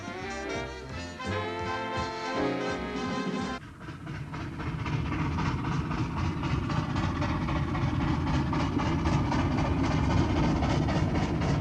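Steam locomotive 3801 hauls the Newcastle Flyer between Sydney and Newcastle, Australia; a whistle sounds at first, then a loud, steady chuffing and rolling roar of the passing train continues to the end.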